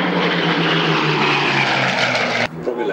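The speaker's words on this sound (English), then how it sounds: "From your left, three Spitfires." Three Supermarine Spitfires fly past at the Duxford May air show, a loud, steady propeller-engine roar filling the air before it drops away abruptly near the end.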